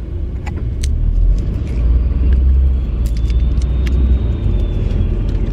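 Inside a moving car on the way to Gare du Nord in busy traffic, a steady low road rumble fills the cabin, broken by small light clicks and rattles nearby.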